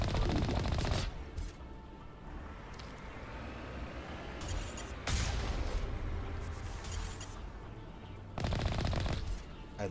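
Vehicle-mounted gun in Mass Effect firing in loud rapid bursts while driving, with sharp repeated shots around the start, middle and end over a steady engine rumble.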